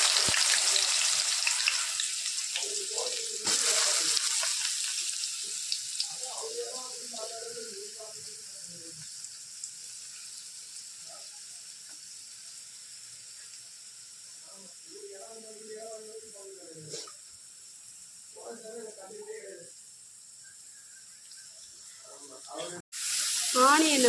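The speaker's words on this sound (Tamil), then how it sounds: "ஆனியனை நல்லா வதக்கிக்கணும்." Onions sauté in a pan for quail gravy, a soft hiss that fades after the first seconds and then lingers faintly while a person talks intermittently.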